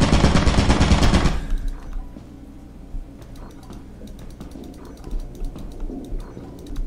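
Turret machine gun fire in a video game: a loud, dense burst of rapid shots in the first second and a half, followed by quieter scattered gunfire and clicking in the background.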